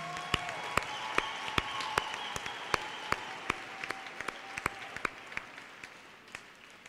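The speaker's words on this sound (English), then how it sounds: "A big round of applause." Guests at a business school graduation ceremony applaud, with sharp, fairly regular claps standing out over a softer wash of crowd clapping and a faint tone, gradually thinning toward the end.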